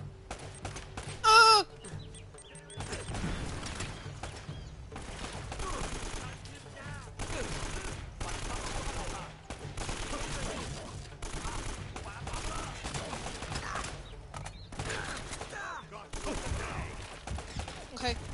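Gunfire rattles through a firefight in the video game Uncharted: Drake's Fortune, with a brief sharp burst early on, then steady loud shooting and rumbling battle noise running almost continuously.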